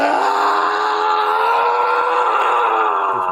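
A man screaming angrily: one long, loud, strained tonal cry that holds steady for several seconds, heard alone without other voices.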